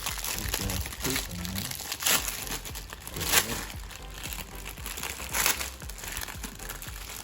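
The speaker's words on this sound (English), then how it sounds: "Just rip the damn bag." A plastic bag of tire sticker letters is torn open by hand, giving a steady run of crinkling and crackling rustles with a few sharper tearing bursts, fairly close and moderately quiet, with no talk.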